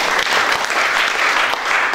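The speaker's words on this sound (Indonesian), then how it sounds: "Tepuk tangan dulu buat Tuhan." A church congregation applauds during a Sunday service, steady broadband clapping sustained throughout at close range and fairly loud, with only faint voices mixed in.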